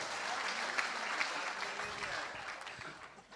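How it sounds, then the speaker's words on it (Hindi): Audience applause at a Hindi poetry gathering (kavi sammelan) at a festival in Hapur, a dense steady wash of many hands clapping that fades slightly toward the end, heard alone at moderate level. "एक बार उसके लिए तालियां आपकी होनी चाहिए।"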